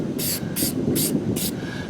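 Citrol 266 aerosol adhesive remover sprays onto a car emblem in four short, close hissing bursts at an even rhythm, each lasting about a quarter second.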